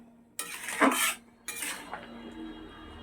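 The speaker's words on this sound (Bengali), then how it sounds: "এবার আমি ঢাকনাটা চাপা দিয়ে দিচ্ছি ঢাকনাটা খুলে দিচ্ছি দেখো" A pot lid lifted off a simmering pot of fish curry with okra and potatoes, giving a close metallic clatter and scrape, then a second softer clink and rattle, with no talk.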